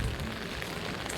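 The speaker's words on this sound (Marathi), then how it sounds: "पाऊस येतो आहे" Rain falls steadily at Crystal Beach in Bali, a dense continuous patter close by and fairly loud, with no voices over it.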